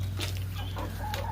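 Domestic chickens cluck and squawk in several short, close bursts over a steady low hum of background noise.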